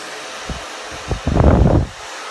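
A hair dryer blowing hair straight, starting in short loud bursts of airflow and then running in one steady, close, roaring blast before it cuts off.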